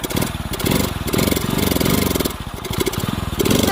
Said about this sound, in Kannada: ಗಾಡಿ ಸ್ಟಾರ್ಟ್ ಆಗೋಯ್ತು